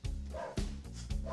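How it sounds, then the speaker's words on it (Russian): A guard dog at a country house barks three times in quick succession, fairly close and clear, with short gaps between the barks. "это наш охранник гавкает"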